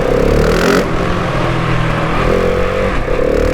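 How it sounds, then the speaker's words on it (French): A GasGas SM 700 supermoto with its stock exhaust runs close and loud, its engine note rising and falling steadily through revving and acceleration with no voices. "On entend bien le son du moteur."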